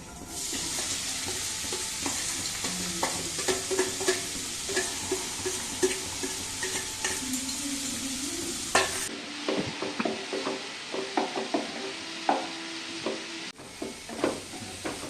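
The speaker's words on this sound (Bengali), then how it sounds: "এটাকে আমি এর মধ্যে দিয়ে দেবো, ভেজে নেবো এটাকে।" Chopped onion, garlic and green chilli fry in a pan with a constant sizzle, broken by frequent scraping strokes of a spatula stirring the mix, close and fairly quiet.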